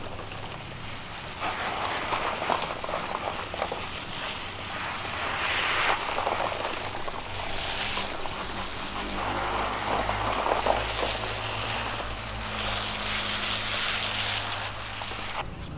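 A Philodendron melanochrysum cutting set in moss is watered, giving a steady, soft splashing hiss that runs continuously at low level with no talk.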